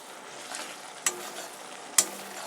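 Frying for a rohu fish curry, a quiet steady sizzle with two sharp spoon clinks against the pan about a second apart, close by and without speech.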